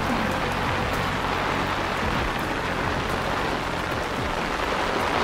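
Steady rain falling, a dense even hiss of drops on surfaces that stays constant and close with no voices.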